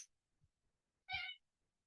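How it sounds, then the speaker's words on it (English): A cat gives a single short, clear meow indoors, fairly close, with faint thumps before it and quiet around it. "noisy cat."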